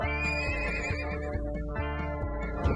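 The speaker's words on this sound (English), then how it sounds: "Best get yourself a royal horse." A horse neighs in the Disney Infinity video game, The Lone Ranger playset. It is a single long, loud whinny that trembles and then fades, heard alone without talk.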